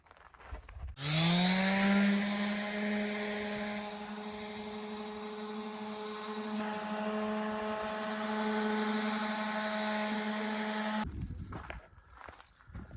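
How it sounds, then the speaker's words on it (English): An orbital sander whirs steadily for about ten seconds on an old fibreglass sailboat hull, a droning buzz with strong humming overtones, starting and stopping abruptly. "give the boat a sanding right over with the orbital sander"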